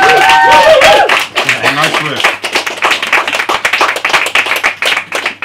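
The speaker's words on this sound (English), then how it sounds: "Applause for Finn and Alastair." Applause for two poets at an open-mic poetry night in Cardiff, a burst of clapping with some laughter that thins into scattered claps, with a voice speaking briefly over it.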